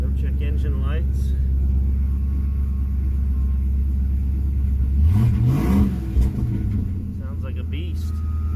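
A 1972 Ford Econoline van engine rumbles steadily at idle, then revs up briefly in a loud throaty surge before settling back, close and continuous throughout.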